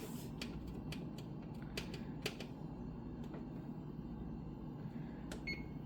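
An oven timer is set to 20 minutes in a home kitchen, a series of quiet, sharp clicks and taps at irregular spacing over a faint low hum.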